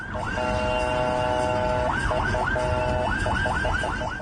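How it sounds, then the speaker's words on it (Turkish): An ambulance siren wails steadily, then switches to a rapid rising-and-falling yelp, loud and close against constant road noise, on the Antalya–Manavgat highway while a minibus refuses to give way. "Siren çalındı."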